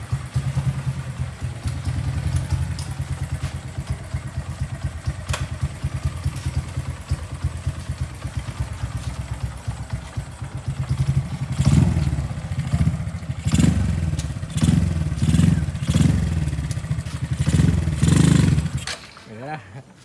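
Honda Karisma 148cc motorcycle with a bored-out 56 mm piston, engine running loud and close, steady at first and then revving in repeated rising surges with some clatter.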